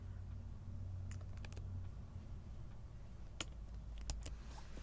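Faint, sparse keystrokes on a computer keyboard come in a few short clusters over a low steady hum.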